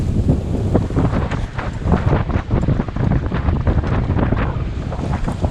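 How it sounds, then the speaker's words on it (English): Strong wind buffeting a Cape Henry 21 sailing yacht at about 13 knots on a crossing of Gulf St Vincent, loud continuous gusting rumble with water washing against the hull, no speech. "The wind's just sort of hit around about 13 knots and the apparent breeze at the moment"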